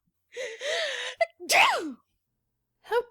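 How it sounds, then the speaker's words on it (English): A dramatized audiobook sneeze from the Duchess: a sharp gasping intake, then a loud, tremendous voiced achoo, followed after a pause by a second shorter sneeze, all close and clear against silence. "Duchess gasps and gives a tremendous sneeze."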